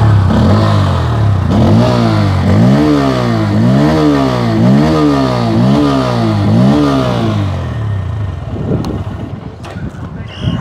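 A Bajaj Pulsar N160 (2024) motorcycle revs repeatedly through its exhaust, a rhythmic series of rising and falling throttle blips close by, ending in a settling idle with wind buffeting the microphone.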